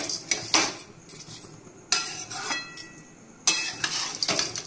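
Coarse sugar grains being stirred into rice frying in a pan, giving repeated gritty scraping and clinking bursts of the spatula against the pan in irregular strokes, close and fairly loud.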